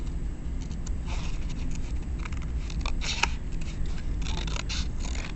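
Scissors snipping through paper along printed lines to cut out pop-up card pieces, a steady close series of crisp cuts and faint rustles with no talking.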